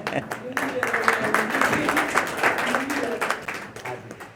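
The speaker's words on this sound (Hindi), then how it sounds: "दोनों की तालियां" An audience at an organic farming gathering breaks into sustained clapping, steady and moderately loud, with voices talking over the applause throughout.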